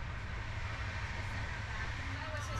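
The Gatimaan Express passenger train speeds up to about 160 km/h near Tughlakabad, heard from inside a first-class coach as a steady, dense rumble and rushing roar that stays loud and even throughout.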